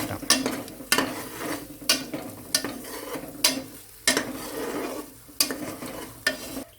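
Bay leaves, curry leaves and spices sautéed in a pan for Malabar biryani, with a steady sizzle broken by regular scraping stirs of a spoon, close and clear with no talk.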